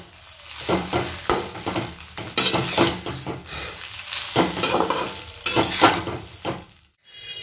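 Maggi noodles stirred in a pan on a gas stove, bursts of scraping and soft clinks in uneven strokes over a light sizzle, close and fairly loud, ending in a brief silence.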